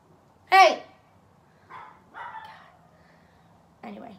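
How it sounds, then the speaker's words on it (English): Several dogs at home let out a sharp close bark followed by a few softer barks and yips spread over a few seconds, in an otherwise quiet room. "Oh, now the dogs see Simon"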